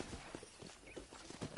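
Hooves of a ridden horse clip-clop at a steady trot in a Red Dead Redemption ranch setting, quiet and regular over a soft ambient bed.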